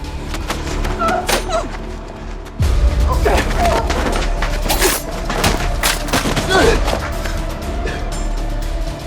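Gunfire in a tense police confrontation in a Korean TV drama, loud booming shots and thuds over dense, busy action sound, with voices mixed into the chaos.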